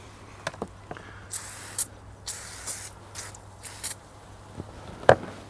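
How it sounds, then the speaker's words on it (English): Several short hissing bursts from an aerosol can of WD-40 Specialist lawn and garden cleaner, sprayed in quick irregular spurts and foaming up, with faint quiet handling noises between them. "you got to spray it on and it foams right up"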